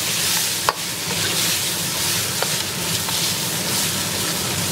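Eel stir-fried in a wok with cucumber strips, soy sauce, perilla, chives and sesame oil gives a loud, steady sizzle, with a few sharp scraping tosses of the spatula breaking through.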